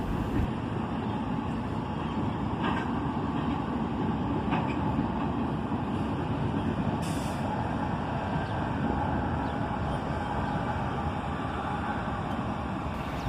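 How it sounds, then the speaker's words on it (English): A steady, heavy rumble of CSX intermodal freight cars rolling past, ending with a distributed power locomotive, continuous and loud throughout, with faint squeals and clanks and no voices. "here comes the end of the train with the distributed power"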